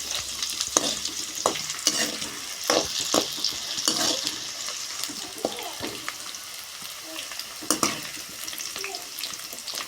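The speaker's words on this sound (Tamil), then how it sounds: "பூண்டு நல்லா வதங்கட்டும்" Garlic sizzles and fries in a hot pan while being stirred, with scraping and clinking under a steady crackling hiss; no talking.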